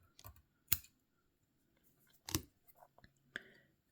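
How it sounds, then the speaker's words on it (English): Scissors snip excess thread off a fly-tying hook while tying a wally wing dun pattern, giving a few sharp, close clicks spread across the moment, with quiet pauses between them. "Then I can come in here and snip all that excess off."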